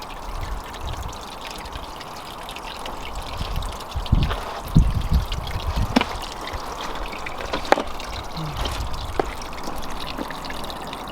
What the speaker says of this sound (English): as you can see, it is filling the pond up there